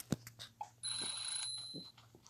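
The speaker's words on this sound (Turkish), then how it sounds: "Zil çaldı" A school bell rings in the video game Stickman Escape School, a bright, sustained electronic ring lasting about a second amid faint clicks and soft game sounds.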